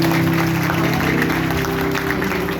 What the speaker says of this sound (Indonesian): Boleh kita beri tepuk tangan yang terbaik Tuhan.